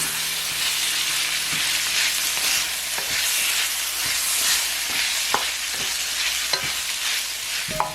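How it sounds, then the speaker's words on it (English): Pasta and beef in sauce stir-fried in a wok, with a steady loud sizzle and repeated sharp clicks of a utensil scraping and tossing against the pan, no voices. "Stir well to combine, making sure the pasta is coated in that delicious sauce."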